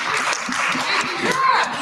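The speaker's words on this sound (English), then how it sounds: "One more round of applause." Audience applause at a closing keynote sounds as a steady, moderately loud wash of clapping, with a voice speaking over it.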